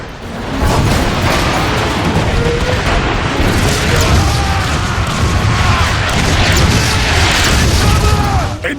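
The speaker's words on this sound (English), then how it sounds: "They're shelling the... It's coming from that warp cannon." Warp cannon shells pounding the battlefield in Transformers: Fall of Cybertron, a loud continuous rumble of booms and crashes with whistling debris, and voices shouting over the barrage.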